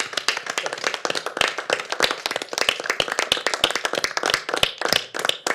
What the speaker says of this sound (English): we better stand up and clap for you